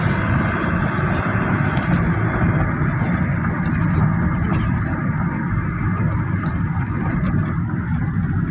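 A Nissan Elgrand semi-electronic van cruises slowly through traffic, a steady, loud engine rumble and road noise heard from inside the cabin, continuous and unbroken, with no one talking.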